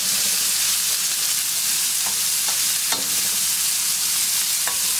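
Onions and garlic fry in oil in a pan after venison, hissing in a loud, steady sizzle with occasional soft scrapes and taps of stirring, close up and without voices.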